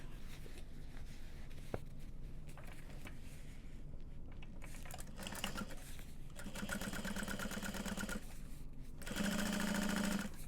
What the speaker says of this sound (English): And we're folding that seam down just like we did the exterior. And top stitching through the bulk.